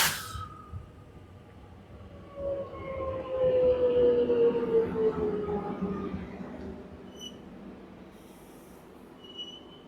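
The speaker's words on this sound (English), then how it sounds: "And here's another train arriving." A Melbourne Metro train rolls into Alamein Station with rumbling wheels and a drawn-out metallic squeal as it slows, growing louder then easing off into a low hum.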